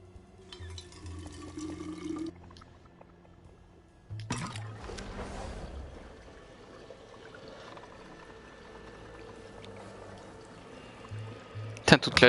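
Tap water running to fill a container in the video game We Happy Few, a steady faint pour under game ambience and music, with short bursts of louder noise and a voice talking.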